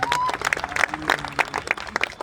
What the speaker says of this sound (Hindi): एक बार उनके लिए जोरदार तालियां